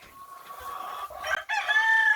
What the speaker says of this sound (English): you got the chickens that when they see me, they come because they think I'm going to feed them.